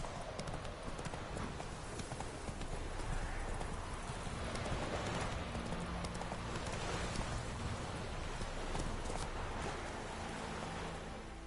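Rhythmic hoofbeats of a horse galloping in the video game The Witcher 3, a continuous clip-clop over a thick wash of outdoor noise, steady and close throughout.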